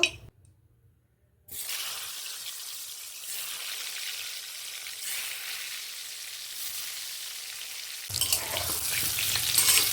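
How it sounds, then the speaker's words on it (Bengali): Pointed gourd (potol) pieces hit hot mustard oil after a brief silence, setting off a loud, dense, steady frying sizzle that holds and swells near the end, close and with no voices. "তেলটা আমার গরম হয়ে গেছে, এবার আমি পটলগুলোকে ভেজে নেব।"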